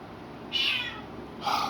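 A male cat meows twice, short and fairly close, with a quiet pause between the calls and faint room hiss underneath.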